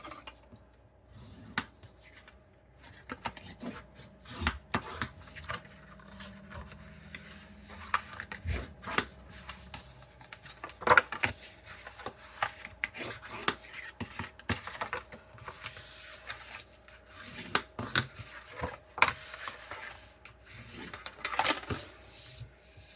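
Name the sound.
folding and burnishing score lines on paper card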